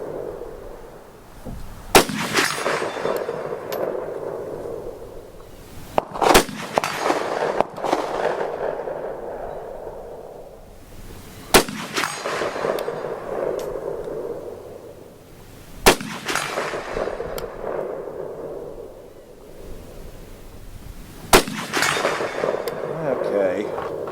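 Five sharp, loud rifle shots from a Romanian M56 SKS firing Brown Bear ammunition crack out at spaced intervals several seconds apart, each followed by a short echo, with speech and outdoor rustle between the shots.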